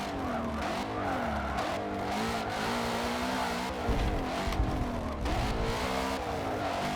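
Race cars in Forza Motorsport 7 roar steadily throughout, with engines revving and shifting and brief tyre squeals as the field battles for position, the loud engine drone filling the whole stretch.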